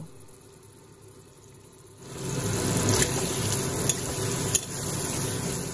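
Green chilli and chopped ginger sizzling in a pan while being stirred. After about two seconds of quiet, steady frying starts, with a few sharp clinks of utensil on metal up close.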